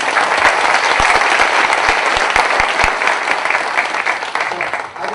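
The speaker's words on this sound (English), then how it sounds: "Let's give a round of applause" An audience at a conference on intellectual property enforcement at John Jay breaks into sustained, dense applause, loud and close, steady for several seconds before easing slightly toward the end.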